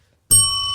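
A single bright bell ding strikes sharply after a brief silence, then rings on with sustained metallic overtones, close and loud.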